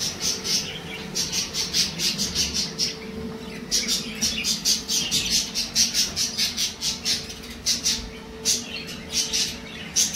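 Cage birds feeding their chicks, with a parent bird passing food to young, a steady stream of close, rapid squawking and chirping calls in repeated bursts, with no talk.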